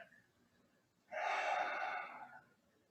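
A single slow, close breath during a stretching exercise, one long airy exhale or inhale rising out of near silence and then fading away.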